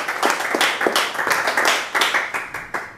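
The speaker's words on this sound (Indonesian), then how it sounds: "Berikan sorak-sorai buat Tuhan." Church congregation clapping in steady rhythmic unison, a dense close burst of hands that stays even through the whole stretch without talk.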